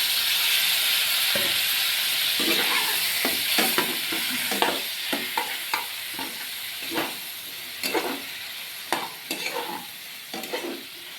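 Spice paste sizzling and frying in a pan with a little water added for a cucumber curry, a steady close hiss broken by repeated scraping strokes of a stirring spoon, with no talk.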